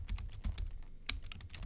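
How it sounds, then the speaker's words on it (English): Rapid keystrokes on a computer keyboard as a page title is typed, a quiet, uneven run of light clicks. "start typing the page title"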